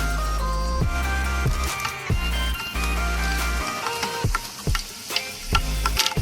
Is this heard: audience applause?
no